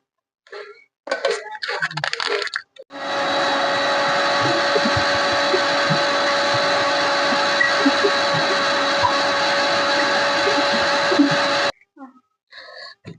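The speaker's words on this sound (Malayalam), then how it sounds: "അപ്പൊ നമ്മ ഇതെല്ലാം മിക്സിയിൽ അടിച്ചെടുത്തിട്ടുണ്ട് കേട്ടോ" A mixer grinder blending a biscuit milkshake whirs loudly and steadily for several seconds, a constant high motor whine, with short bursts of talk before and after.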